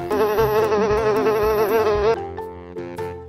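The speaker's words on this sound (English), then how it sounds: "Wow, housefly." A housefly buzzes loudly and close with a steady whining drone that wavers slightly, then cuts off and fades into softer sound.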